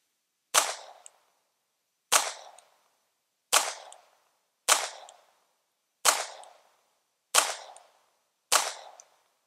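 Seven single shots from a Walther P22 pistol at a shooting range, each a sharp close crack with a brief ringing tail, evenly spaced about one and a half seconds apart, with no talking.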